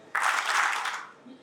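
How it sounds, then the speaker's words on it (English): Audience team at a 2018 alumni reunion gathering in Karachi claps in a short burst, a brief wash of hand claps lasting about a second before fading into quiet. "Can you please clap again?"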